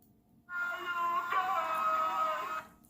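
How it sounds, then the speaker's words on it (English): A Goonies pirate-themed lightsaber with Crystal Focus X sound board plays its boot-up effect modeled on Sloth, a sudden loud moaning, wailing vocal-like cry that swells and holds for about two seconds, then cuts off. "So boot up sound, that's Sloth."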